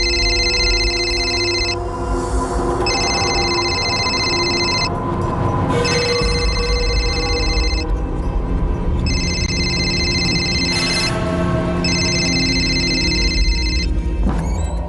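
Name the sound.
telephone ringing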